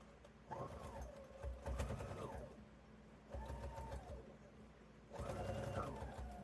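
A domestic sewing machine stitches across tote bag fabric in three separate bursts of steady whirring, each a second or two long, with short pauses between them and no talking.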